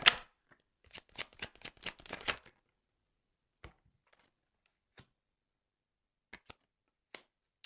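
A deck of cards is shuffled for a card reading: a quick burst of riffling and flicking at the start, then a few sparse, isolated card taps and clicks in a quiet room.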